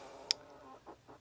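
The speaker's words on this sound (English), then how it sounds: "Hey, chicken." Backyard chickens cluck from a short distance, a sharp high squawk followed by two soft low clucks in a quiet outdoor setting.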